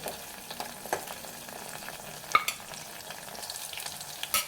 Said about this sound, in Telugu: మనకి ఇంకా బాగా వేగిపోయాయి పచ్చిమిర్చి